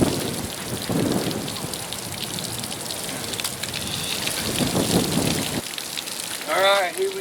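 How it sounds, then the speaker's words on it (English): Rain falling outdoors ahead of a storm, a continuous broadband patter with occasional rumbling swells, and a brief voice near the end. "The rain is right there."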